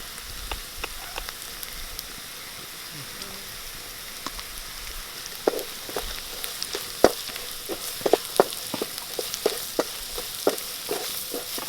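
Onion and ginger sauté in a pan for a banana stem cutlet, giving a soft steady sizzle with scattered sharp spoon clicks that grow more frequent toward the end, close by.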